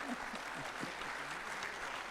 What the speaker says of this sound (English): Big applause for our panelists.